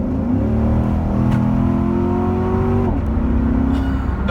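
A 2014 Chevrolet Corvette C7 1LT V8 revs up close by with a deep raspy engine note, its pitch climbing and then dropping off before settling, with no talk over it.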